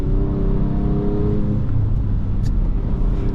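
A Ford Ranger Raptor pickup cruises on a regular road, its engine and tyres giving a steady low rumble and whir from inside the cab, with no talking.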